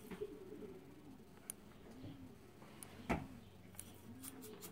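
Pigeons in a loft coo in soft, repeated rolling calls at a moderate distance, with a few sharp knocks and clicks from the surroundings.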